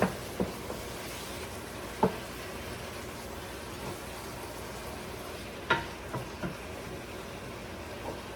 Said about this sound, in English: I'll mix it up, the fish and the tomatoes